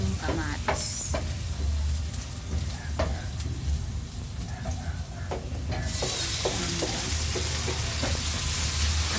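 Onion and tomato sautéing in a frying pan, with a steady sizzle throughout and scattered sharp scrapes and clicks of stirring, heard close and alone.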